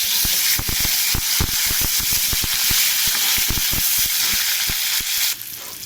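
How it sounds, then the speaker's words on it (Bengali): Potato and turnip pieces frying in hot oil, a loud dense sizzle with rapid crackling pops and stirring knocks, easing slightly at the end. "আলু শালগম ভাজা হয়ে গেছে"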